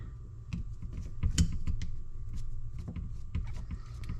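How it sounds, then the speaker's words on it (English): Screws being taken out of the top of an Oliver 60 tractor carburetor: small metallic clicks, ticks and light rattles at irregular moments, close and quiet. "we're going to take the 4 screws out of the top here so we can pull it apart"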